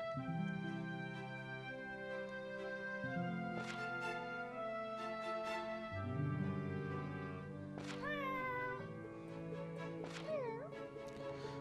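Cartoon cats meow repeatedly in a mobile cat-sorting puzzle game, the short rising and falling cries popping up over busy, steady game music with no talking.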